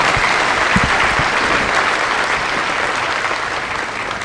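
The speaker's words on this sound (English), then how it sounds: "Allow me to kindly ask you all to give a real hearty applause" Hearty applause from a large audience at the funeral service for late Kenyan president Mwai Kibaki, a dense, loud, unbroken wash of clapping that fills the whole stretch.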